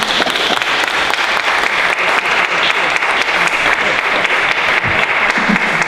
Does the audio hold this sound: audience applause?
yes